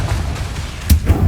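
A Confringo fire blast from Hogwarts Legacy, a sharp, punchy impact that cracks out suddenly about two-thirds of the way through over a low rumbling game background, followed by a couple of smaller thuds.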